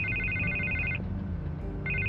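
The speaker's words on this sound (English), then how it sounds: "I can't get the phone to stop ringing." A telephone rings in the Batman Telltale video game, with repeated electronic bursts of ringing that cut out midway and resume near the end over a steady low background.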